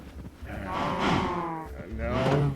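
A cow in a Minecraft modpack gives two drawn-out moos, the first longer and the second shorter, heard up close and loud with nothing else over them.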